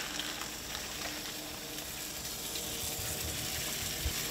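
Almond-flour-breaded hogfish sizzles in a hot pan, a dense steady crackle heard close up with a few faint clicks and no voices.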